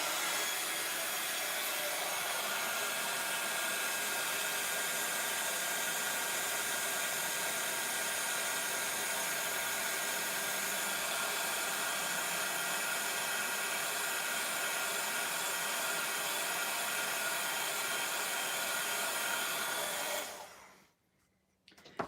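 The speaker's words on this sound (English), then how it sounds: "So I'm just going to pop my heat tool on again and get embossing." A heat tool for embossing runs with a steady, loud blowing roar for about twenty seconds, then cuts off abruptly near the end, leaving quiet.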